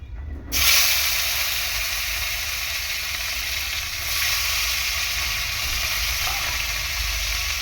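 Chopped tomato drops into hot oil already holding cumin and a whole dried red chilli, bursting into a loud, close hiss that holds steady and unbroken, with a slight swell partway through and no voices.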